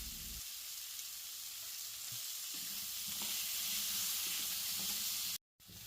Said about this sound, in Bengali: এবার ওই তেলে আলুটা হালকা নুন দিয়ে ভেজে তুলে নেব।